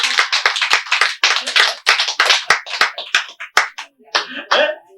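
Audience members in a sutra-study lecture hall clapping their hands: a brisk run of close, sharp hand claps in uneven rhythm, loud and continuous, with a brief pause and a few final claps near the end.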